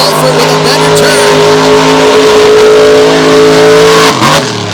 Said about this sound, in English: Snyder just burning up the tires as Olford is checking out Wrecking Machine,